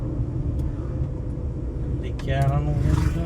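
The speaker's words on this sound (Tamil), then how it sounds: "இன்றைக்கிதான் இவ்வளோ வண்டி வருதுங்க எக்கச்சக்கமான வண்டி வருதுங்க" Cars and other motor vehicles roll past on a road in a continuous close rumble, with one passing engine swelling louder toward the end, while voices talk over the traffic.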